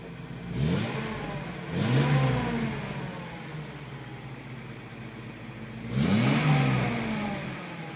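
A Datsun 240Z engine revs up three times, the pitch sweeping upward and falling back each time, loud and close, with a steady engine drone between the revs and no talking.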